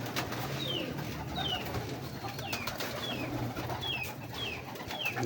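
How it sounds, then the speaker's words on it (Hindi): Pure male big breeder pigeons coo in a loft, with soft cooing under a steady background hum and repeated short chirp-like calls spaced through the clip. "प्योर कबूतर है"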